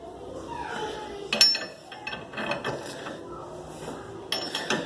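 A ball joint puller on a Golf is tightened with a 24 mm wrench, giving a few close metallic ratcheting clicks and scrapes in uneven bursts against a quiet background.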